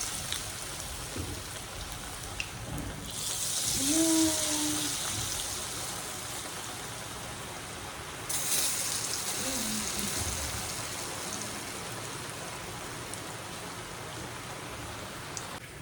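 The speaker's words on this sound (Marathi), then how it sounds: "पाऊस पण चालू झालेला आहे गाईस. तुम्हाला आवाज येत असेल पावसाचा." Rain falls as a faint, steady patter that runs throughout, with a few soft, brief household noises rising briefly over it.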